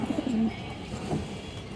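Old-generation colourful pigeons give a few low coos in a quick pair at the start, followed by quieter murmuring coos close by.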